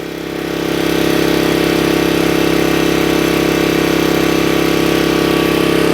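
A generator engine idles with a constant loud, even hum that rises briefly at the start and then holds steady throughout, with no voices.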